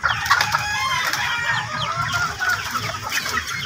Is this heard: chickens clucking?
yes